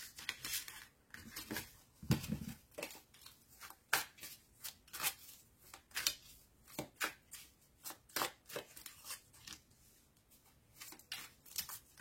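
Tarot cards being shuffled and drawn during a French love reading, a long run of quick crisp riffles and slaps heard close up, with dense bursts and brief pauses between them.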